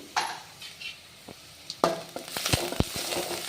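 Finely chopped onions and a little ginger paste hit a hot pan already seasoned with cumin and mustard seeds for a palak gravy. A soft sizzle runs under scattered spoon scrapes and clinks against the pan, close by with no talking.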